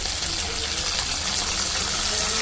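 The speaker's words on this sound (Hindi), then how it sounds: "अब इसमें हम डालेंगे सिरका" Vinegar pours into a hot pan of chili chicken, a loud, continuous gushing hiss that holds steady from start to finish.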